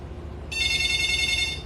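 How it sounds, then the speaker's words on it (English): A telephone starts ringing partway through, a steady bright electronic trill that holds loud and close over a low background rumble, with no talking during the ring. "Normally, I never get phone rings and stuff when I'm doing this."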